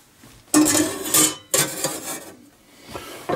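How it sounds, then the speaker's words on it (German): A pot of red onion jam is set down on a simmer plate over a gas flame, giving two or three close metallic clanks and scrapes with short pauses between, no talking. "das Ganze werde ich jetzt auf eine Simmerplatte stellen"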